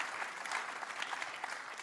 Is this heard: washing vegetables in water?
no